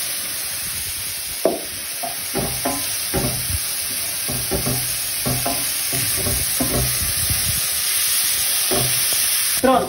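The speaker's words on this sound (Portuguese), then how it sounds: "Já tá a cogumelo e cebola já tá bem fritinho" Mushrooms and onion frying in a pan, a bright close sizzle broken by repeated clattering stirs and utensil taps that come in irregular bursts, no voices.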